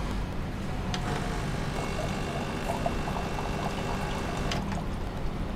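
Water dispensing from a Ferrati Ferro FCM3200D espresso machine, a steady continuous pouring hiss with a faint machine hum underneath, holding level throughout.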